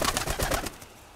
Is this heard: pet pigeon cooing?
yes